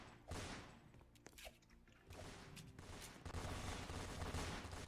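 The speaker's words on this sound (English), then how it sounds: "Someone got a machine gun." Machine gun fire in a Roblox shooter game crackles in rapid bursts and sustained volleys, fairly distant and muffled, with dense rattling through most of the stretch.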